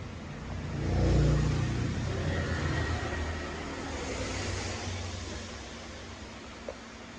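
A Vespa S125 scooter engine revs up to a loud surge early on, then settles into a steady, rough idle hum for the rest of the stretch, close by with no voices.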